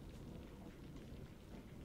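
A quiet, steady wash of rain from a thunderstorm hisses evenly with a low background rumble, faint and unbroken, with no voices.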